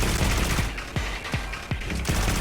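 Rapid gunfire in the mobile adventure game Auroria as shots are fired at a boss: a string of sharp, punchy reports at irregular intervals, loud and close.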